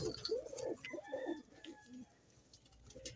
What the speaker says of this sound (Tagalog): Ganda ibon niya, si Milo.